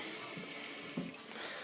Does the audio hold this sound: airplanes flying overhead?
no